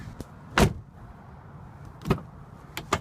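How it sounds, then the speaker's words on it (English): A 2003–2007 Chevrolet Silverado door shuts with a solid thump, followed by a couple of lighter clunks from the door and handle in a quiet setting. "I'm gonna go ahead and close the door,"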